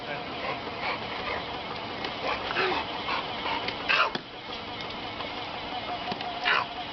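A dog whimpers and yips in short bursts against a noisy background, with faint voices mixed in.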